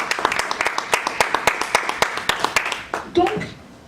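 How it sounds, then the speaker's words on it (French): A church congregation claps in a regular rhythmic beat, fairly close and clear. A voice rises near the end and the clapping fades out. "Acclamons pour papa."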